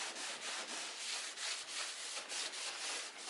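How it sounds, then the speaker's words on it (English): A surface around a boat hatch is wiped down with rubbing alcohol, giving a close, soft, rhythmic rubbing swish repeated back and forth. "So I'm going to go around here with rubbing alcohol."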